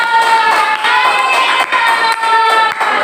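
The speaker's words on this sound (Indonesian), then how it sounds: "Oke, beri tepuk" A group of students claps together in a classroom, a steady, continuous burst of applause lasting a few seconds with no voices over it.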